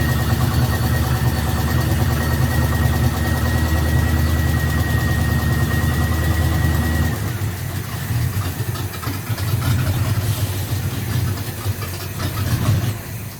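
Luhrs 28 boat engine running steadily and loud, with a constant low rumble and whine that shifts in character partway through as the throttle changes, continuing alone without talk.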